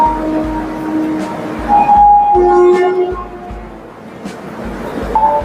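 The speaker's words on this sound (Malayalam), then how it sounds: "ഇപ്പൊ നമ്മളിതാ ഡബിൾ ഡെക്കർ ട്രെയിനിൽ കയറാൻ പോവാണ് ആദ്യമായിട്ട്." A double-decker commuter train in Mumbai rumbles with rhythmic rail clatter and a couple of brief horn-like tones, heard from close by with station noise around.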